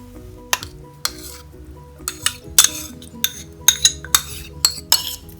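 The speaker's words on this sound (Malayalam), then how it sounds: "അതിനുശേഷം നമുക്കിതിലേക്ക് സാലഡ് ഡ്രസ്സിങ് ചേർത്തൊന്ന് മിക്സ് ചെയ്തെടുക്കാം" A cucumber and mixed vegetable salad being tossed with creamy dressing in a bowl, with sharp intermittent clinks of a spoon against the dish over soft wet mixing sounds, no voices.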